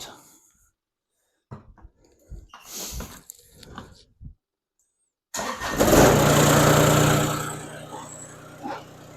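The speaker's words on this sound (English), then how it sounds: "So I got to start the tractor again so I can lower these back down" A Kubota BX2360 compact tractor engine cranks and catches after some clunks and handling noises, then runs loud and steady with a rough idle before easing off.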